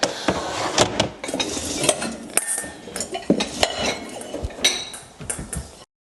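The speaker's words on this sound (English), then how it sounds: "while I'm putting these away, we have 2 Hexclad pans that they sent us" Hexclad pans and other kitchenware clank and clink as they are stacked and put away, a busy run of close metallic knocks and rattles with brief pauses between them.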